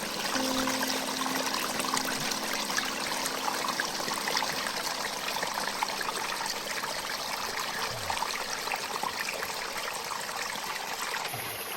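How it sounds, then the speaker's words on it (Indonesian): A mountain river stream flows along a hiking trail in Maluku, a continuous rushing, trickling wash of water that stays steady and fairly close throughout, with no voices. "ini kita menyusuri sungai-sungai dan kita bisa refill air di sungai"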